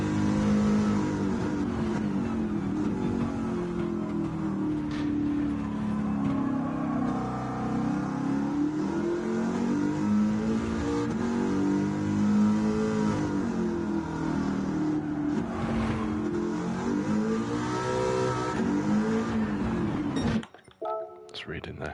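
A Ford Mustang engine revs at Laguna Seca in a racing video game, a loud, steady drone with rising and falling pitch across most of the clip, under continuous talk, cutting off abruptly near the end.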